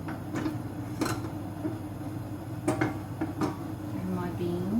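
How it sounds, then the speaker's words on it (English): Mushrooms stirred in a greasy frying pan, with a utensil knocking and scraping in several sharp close clacks over a low kitchen hum while someone talks. "I'm just going to give the mushrooms a stir."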